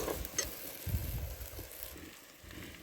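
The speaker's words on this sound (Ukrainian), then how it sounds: "Після того, як прожарила, скидаємо картоплю." Potatoes tipped into a bograch pot frying over an outdoor wood fire, a brief close sizzle and clatter with soft stirring and crackle and no talking.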